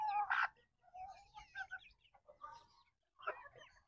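Chicks and chickens cluck and peep close by, in short irregular calls with quiet gaps between them, fairly soft overall.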